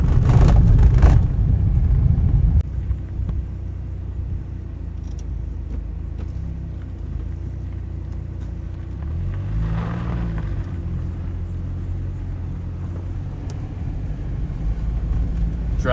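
A car drives across a high mountain grassland plateau road in Armenia, giving a steady low engine and tire rumble from inside the vehicle, with a louder burst of wind noise at the start.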